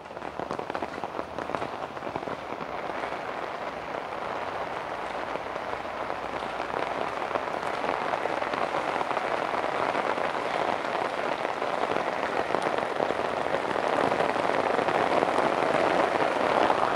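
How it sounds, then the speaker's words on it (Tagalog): Heavy rain pours down in a dense, steady hiss of drops on surfaces, close and loud, growing slightly stronger toward the end, with no one speaking. "Lakas ng ulan."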